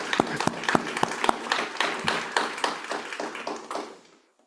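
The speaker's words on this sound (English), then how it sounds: "I think we should clap about that." Clapping from a small group of listeners, with distinct sharp hand claps at first that thin into scattered claps and fade out near the end, moderately loud and with no talk over them.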